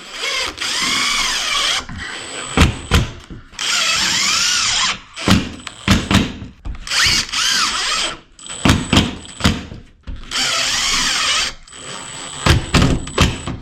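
A power drill drives screws to fix J-track to a ceiling alongside drywall, whirring in repeated short bursts of varying length separated by brief pauses, loud and close.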